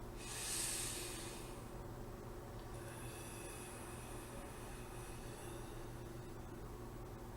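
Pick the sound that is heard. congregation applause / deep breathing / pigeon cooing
deep breathing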